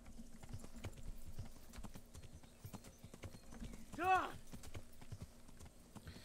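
Horse hooves clip-clop steadily on the ground in the game Kingdom Come: Deliverance, soft and continuous, with a horse whinnying briefly partway through.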